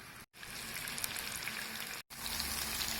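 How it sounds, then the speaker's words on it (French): Oil, a little onion and tomato paste frying in a saucepan for a traditional Togolese fish tomato sauce, giving a steady, close crackling hiss like light rain, broken by two brief dropouts. "Dans une casserole, vous mettez l'huile avec un peu d'oignon et la tomate concentrée. Vous laissez cuire environ 6 minutes."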